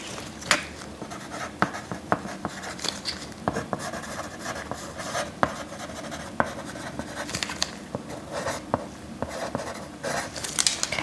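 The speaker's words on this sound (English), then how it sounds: "Okay, I'm just going to write that down." Pen scratching across paper while notes are taken during a mock head-to-toe medical exam, close and quiet, with uneven strokes and occasional taps.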